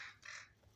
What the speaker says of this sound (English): The crows are back.